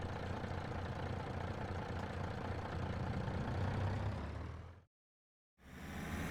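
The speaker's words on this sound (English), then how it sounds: "get back in the engine here, and we're gonna head back to the station" A fire engine idles in Farming Simulator 22, a steady low rumble running loud and continuous for nearly five seconds, then dropping to a brief silence before the engine drone returns.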